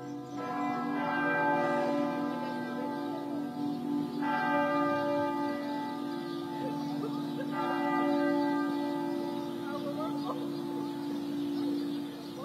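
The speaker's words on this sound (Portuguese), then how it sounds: "Os sinos começaram a soar às 6 horas e 7 minutos, de uma forma bem intensa" Church bells of the Catedral da Sé ring intensely at dawn, with heavy overlapping strokes struck roughly every four seconds over a continuous resonant hum, heard from nearby outside the cathedral.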